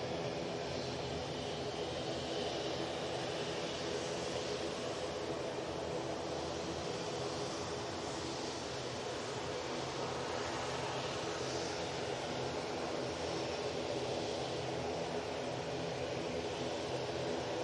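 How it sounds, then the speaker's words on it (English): A small Cessna Citation business jet arrives at Manchester Airport, its engines a distant, steady broadband roar and hiss that holds evenly throughout. "We do have like a Bizjet coming in. A little Cessna citation."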